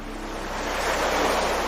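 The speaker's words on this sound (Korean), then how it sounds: "파도 소리가 들린다면 더더욱 촉감이 잘 느껴질 거예요." Ocean waves wash in a steady broadband rush, swelling slightly toward the end, with no voices.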